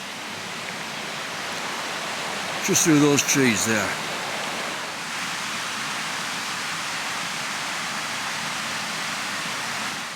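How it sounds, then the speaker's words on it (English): A small woodland waterfall near Snope Burn Colliery gives a steady, broad rushing wash from a short distance. Someone speaks briefly over it. "we've got the little waterfall"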